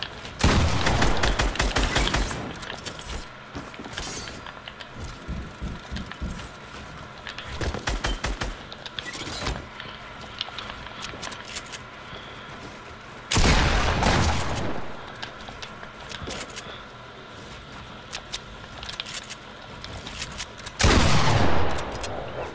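Fortnite gunfire erupts in dense rapid bursts, loud and close, with long volleys at the start, midway and near the end and scattered single shots between.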